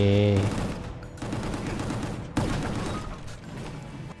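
Rapid bursts of gunfire from the shooter video game Gungrave G.O.R.E, with a tone at the start and then dense, steady firing that keeps going.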